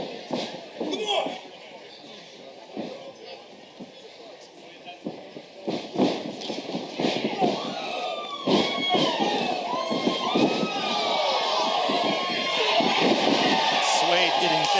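Crowd cheering and reacting at a live pro wrestling show at Anime St. Louis, a steady roar of voices with sharp slams and thuds from the ring, swelling louder toward the end.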